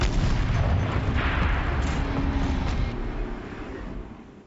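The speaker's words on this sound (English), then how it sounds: "Rotate turret! And fire!" A turret fires in the video game Horizon Zero Dawn, a loud, sustained rumbling blast that stays heavy for about three seconds before slowly fading, with no speech over it.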